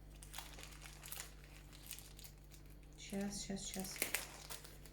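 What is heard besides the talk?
opening and tearing open a package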